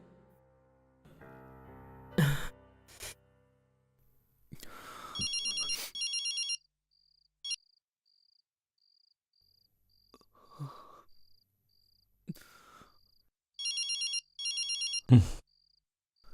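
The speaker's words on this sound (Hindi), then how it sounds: "फोन उठा यार, फोन तो उठा ले यार।" A telephone ringtone chirps in two short trilling bursts separated by several seconds, with scattered clicks and small noises in between, fairly close and clear.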